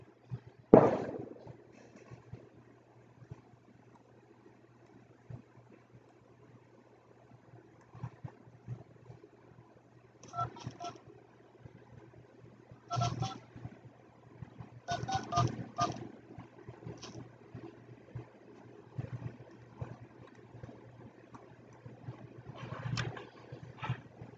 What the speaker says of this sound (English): I'm going to continue calling these different phone numbers